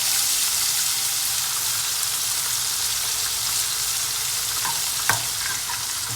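Chicken pieces fry steadily in hot oil for a chicken roast, giving a continuous close hissing sizzle with a few small pops and no voices.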